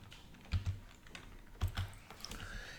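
Keys clack on a computer keyboard in two quick clusters of a few taps each, close and fairly quiet against a soft room background, with no speech.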